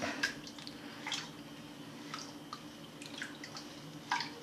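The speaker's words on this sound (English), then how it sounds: "I'm going to pan this out a little bit, get down to the black sands." Water sloshes and drips as sluice box concentrates full of black sand are gold-panned, with soft, irregular splashes and trickles spaced a second or so apart over a low background hum.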